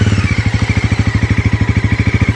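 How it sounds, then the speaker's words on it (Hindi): A 2025 Bajaj Pulsar NS400Z with an underbelly exhaust idles just after starting, a loud, close, even engine thump pulsing rapidly and steadily with no speech. "राइडर्स पोजीशन पे साउंड कुछ ऐसा है जब सिर्फ स्टार्ट हुई है बाइक।"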